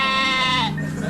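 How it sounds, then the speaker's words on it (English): A sheep bleats loudly and close, one long wavering cry that drops off near the end, with a low steady hum underneath. "Always within hearing distance of Chris the sheep"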